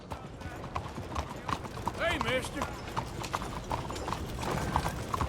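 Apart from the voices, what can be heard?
horse hooves clip-clopping, from video game Red Dead Redemption II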